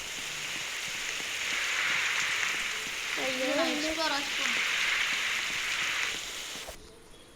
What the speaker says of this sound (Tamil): அம்மே மழை பெய்யுது.